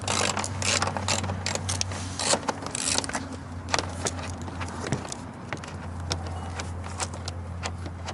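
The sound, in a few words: ratchet undoing 10 mm bolts under an Acura TL bumper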